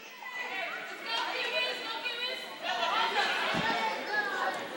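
Crowd of spectators chattering at a youth soccer game for six- and seven-year-olds, a continuous mid-level murmur of many overlapping voices with children's voices audible, steady throughout with one brief thump.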